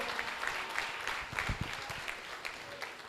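A workshop audience applauds in a steady, moderately loud patter of many hands, continuing evenly for a few seconds.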